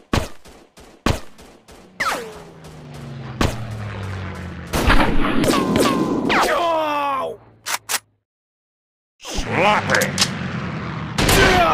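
Sniper rifle shots in a WW2 sniper shooting game on Android, loud sharp cracks arriving one after another with booming tails and a short silent gap before more shots ring out.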